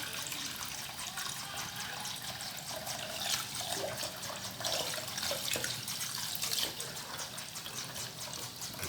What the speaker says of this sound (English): Okay, so after that, then you put in water.